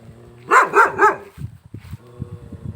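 Three sharp, loud dog barks come in quick succession close by at a Thai countryside farm, followed by softer scuffling and faint low background noise.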